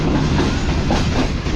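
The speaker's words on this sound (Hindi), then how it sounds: "5:50 पर हमारी ट्रेन स्किप करने जा रही है ring road junction railway station को" The Tezgam train from Karachi to Rawalpindi runs along the rails with a loud, steady rumble and rhythmic clatter of wheels, heard continuously without any voices.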